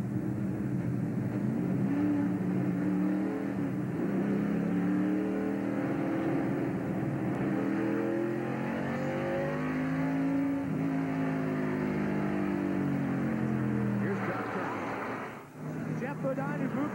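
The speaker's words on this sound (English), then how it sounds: "the pit stops are happening now" NASCAR stock cars at a 1997 Exide Batteries 400 race roaring during pit stops, engine tones rising and falling continuously under a commentator's voice, with a short dip near the end.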